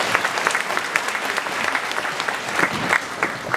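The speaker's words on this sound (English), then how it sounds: "Give yourselves a round of applause." Parents and audience at a Year 6 school graduation ceremony applaud in a lively, close burst of clapping, with individual claps popping out of the steady crowd sound throughout.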